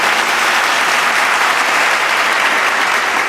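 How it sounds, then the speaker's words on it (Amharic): A live audience at a motivational talk on success breaks into steady, dense applause, many hands clapping at once with no pause and no voices rising above it. "በቃ አጨብጭቡ"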